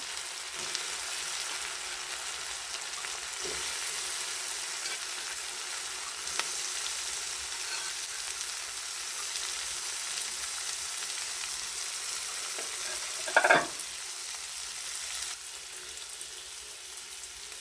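Bean seeds fry in spiced oil with a steady, fine sizzle, broken by a few light scrapes and one louder stir of the pan near the end, no talking.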